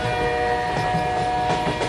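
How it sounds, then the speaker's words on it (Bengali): A night train rumbles steadily along the tracks with a sustained droning hum and faint rhythmic clatter, continuous and fairly close. "ছুটে চলেছে রাতের রেলগাড়ি"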